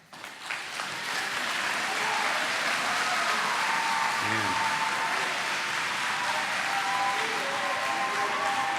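Audience applause at a school board meeting: sustained, dense clapping from a sizable crowd that swells quickly and holds steady at full strength, with faint voices or cheers mixed in underneath.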